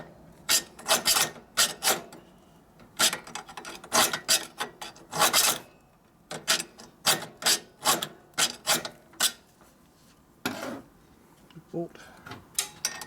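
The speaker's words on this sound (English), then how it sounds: "So we need to rat tail file that a little bit" A rat tail file rasps back and forth on a part for a 1941 74ci Knucklehead bobber build, with repeated close, rhythmic scraping strokes in bursts and brief pauses, and voices talking at times.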